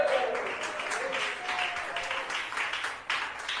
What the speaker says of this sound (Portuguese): Palmas para Cristo Jesús.